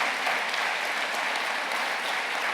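Audience at a gala applauding steadily, a dense, even wash of clapping from a large crowd throughout.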